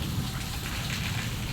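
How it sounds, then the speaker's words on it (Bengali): Heavy rain pours down outdoors in Kolkata, a dense, steady hiss of drops striking surfaces close by, continuous and loud throughout with no talking. "প্রচুর বৃষ্টি হচ্ছে"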